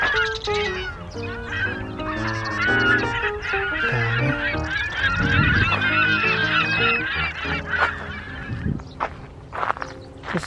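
Geese honk repeatedly in a dense, overlapping chorus at Haneul Park in Seoul, a steady mid-distance flock calling loudly for the whole stretch, with faint footsteps mixed in.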